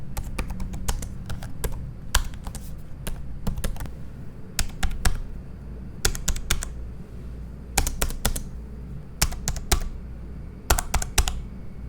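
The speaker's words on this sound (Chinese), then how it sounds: "还是觉得这组键盘声音略大" Typing on an ASUS ExpertBook P5 laptop keyboard with soft, membrane-feel 1.5 mm travel keys, heard up close as fairly loud clacking keystrokes. The keystrokes come in quick runs separated by short pauses, with no talking.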